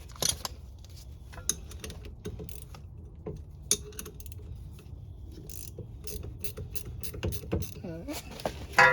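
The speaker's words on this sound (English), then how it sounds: "Looks like you just unbolt a bunch of stuff." Clanks, ratcheting and metallic clicks from unbolting rear brake caliper parts on a 2002 Audi TT 8N, close and irregular over a low background hum.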